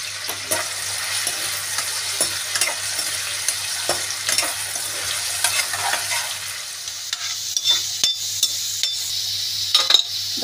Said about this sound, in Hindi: अब कर लेते फ्राई इनको भी।